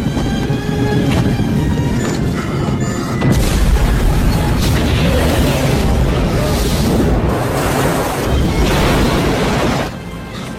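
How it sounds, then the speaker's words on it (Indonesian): A car bomb explodes in an action film: a sudden loud, deep boom swells into a sustained roaring rumble that fills the clip before easing off near the end. "mobil itu akhirnya meledak"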